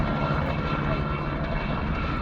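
A Bell 47 helicopter flying at the Parkes airshow, giving a steady, loud engine and rotor drone with a constant hum that stays even throughout, without any talking.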